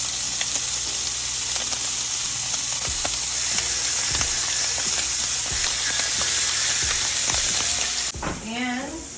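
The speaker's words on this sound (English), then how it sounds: "on high heat here, we're gonna go in with our skirt steak" Skirt steak frying over high heat, a loud, dense, close sizzle with crackles and spatter continuing throughout, ending with a brief change in the sound near the end; no speech.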